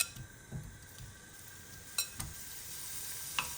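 Prawns frying in a hot pan give a quiet, steady sizzle, with a few brief clinks and stirring scrapes on top.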